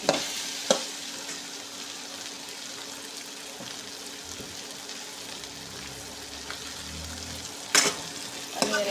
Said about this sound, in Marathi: आणि आता आपण त्या भेंड्या टाकून घेऊ.